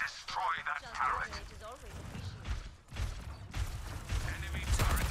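Gunfire hits a turret in the video game Overwatch 2 until it breaks apart. Loud, dense bursts of shots and mechanical clanks play continuously through the clip, with voices speaking over the battle.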